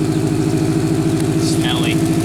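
A Subaru car engine idles close by with a steady, lumpy low pulse and a brief high chirp partway through.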